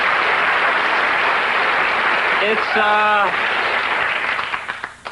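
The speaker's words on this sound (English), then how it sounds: "oh, you stopped applauding" Studio audience applause at a taped comedy talk show, a dense steady wash of clapping that fills the clip and then thins and tapers off near the end, with a brief spoken word over it.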